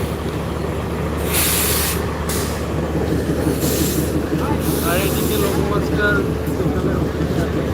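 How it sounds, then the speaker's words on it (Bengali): A train rumbles at a railway junction with a steady low rolling drone and intermittent bursts of hissing, joined by faint metallic squeals, while a voice speaks over the scene. "এই যে ওই সাইডে একটি ট্রেন রয়েছে ওটি হচ্ছে মালটেন"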